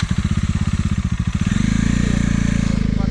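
An off-road motorcycle engine revs hard and close, its exhaust first pulsing in quick choppy bursts, then settling into a steady loud drone; faint voices may sit underneath.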